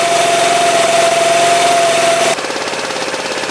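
A small scooter engine idles steadily without its air filter, with a throbbing, uneven putter, close and loud, dropping slightly in pitch and volume near the end.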